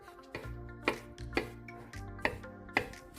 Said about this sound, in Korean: 먼저 비엔나 소시지 10개를 잘게 썰어줍니다.